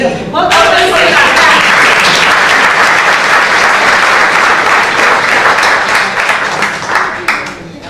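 Sustained audience applause fills a hall after a theatre performance at an amateur drama contest, dense and loud clapping from many hands holding steady throughout before tapering slightly near the end.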